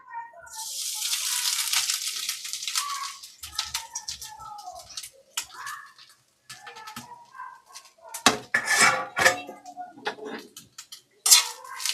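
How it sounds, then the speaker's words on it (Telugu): Grated coconut tipped into hot ghee in a pan sends up a loud, hissing burst of sizzle that fades after a few seconds into scattered clinks, scrapes and softer frying noises at close range. "ఇది కొబ్బరికూరని తీసి నేతిలో వేసుకోవాలండి"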